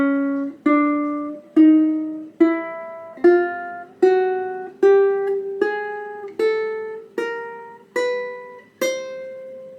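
A ukulele plucks a rising chromatic scale, twelve evenly spaced notes climbing step by step, each ringing briefly before the next, played alone and close.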